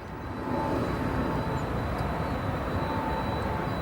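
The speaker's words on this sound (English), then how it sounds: "That recent FedEx 767 arrival" FedEx Boeing 767 airliner taxiing at O'Hare after arrival, a broad steady jet engine roar heard from a distance, fairly faint and unbroken.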